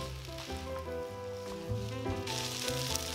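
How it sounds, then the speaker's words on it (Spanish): Korean jabchae glass noodles and vegetables stir-fried together in one pan give a steady sizzle that brightens and hisses more near the end, under prominent background music. "Freímos una vez más."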